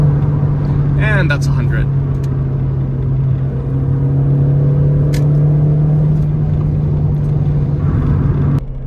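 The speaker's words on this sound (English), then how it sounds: "Let's accelerate a little bit on the highway." Volkswagen Golf GTI MK3 with the 8-valve engine accelerates on a highway, a steady droning engine note with a rising harmonic under heavy road and wind rumble, while someone speaks briefly early on.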